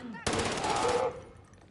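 A loud, rapid burst of automatic gunfire in the video game Warzone lasts just under a second, then tails off into quieter game sounds.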